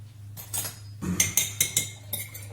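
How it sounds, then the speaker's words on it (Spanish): A whisk or fork beats three eggs in a bowl for a homemade yogurt sponge cake, giving a quick series of close, bright clinks against the bowl's side. "Batimos los 3 huevos."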